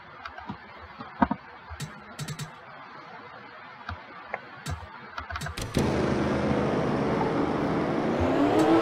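A pace car engine in NASCAR Racing 2003 at Bristol starts with scattered clicks and thumps, then settles into a steady, loud droning hum that slowly rises in pitch, with no talking.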